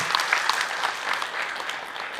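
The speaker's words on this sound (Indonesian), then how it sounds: "Boleh tepuk tangan dulu dong buat Ahilman ya" Audience at an Islamic sermon clapping for the preacher, a dense, steady burst of many hands close by throughout.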